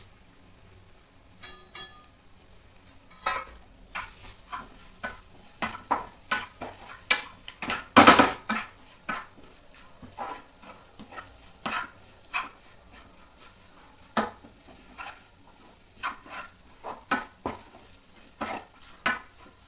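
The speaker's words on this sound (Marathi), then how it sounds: "त्यात आपण मनुका, बदाम आणि इलायची पावडर टाकून मिक्स करून घेऊया चांगलं." A utensil scrapes and clicks against a pan while melted jaggery is stirred with raisins, almonds and cardamom powder for modak filling, giving irregular close scraping strokes over a faint sizzle, with one louder clatter midway.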